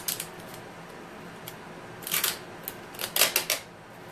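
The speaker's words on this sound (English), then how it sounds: "Now I'm getting my tape stuck" Craft tape being pulled from the roll and stuck down during a chalk stencil project, with a few short tearing rips followed by a quick cluster of louder, close-up pulls and no talking.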